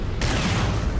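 Grenade blast in the open-world stealth action game Metal Gear Solid V, a sudden broadband boom at the start that rolls into a loud, sustained rumbling roar through the rest of the moment.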